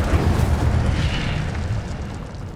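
A fiery spell blast in the Hogwarts Legacy video game, a deep rumbling burst that is loudest at the start and then slowly fades away.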